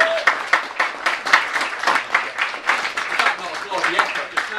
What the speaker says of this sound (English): just a quick round of applause for Susan